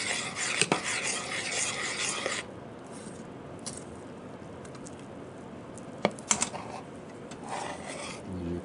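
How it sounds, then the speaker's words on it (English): A yeast sponge dough mixture being stirred in a bowl: steady wet, scraping swirls at first, then quieter stirring with a few sharp utensil knocks against the bowl, close by, with no talking. "So this, we're going to stir completely."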